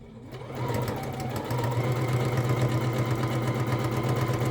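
A sewing machine stitches during free-motion quilting of fabric pumpkins, a close, fast, even mechanical whir that starts after a brief pause and runs steadily, picking up speed partway through.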